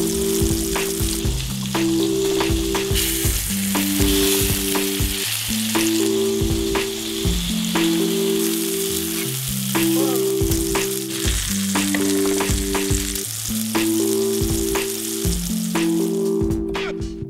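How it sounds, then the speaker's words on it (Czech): Flour-coated chicken breast slices fry in hot oil in a pan, giving a steady, close sizzle that runs under louder background music throughout. "Smažíme z každé strany pár minutek podle tloušťky plátku."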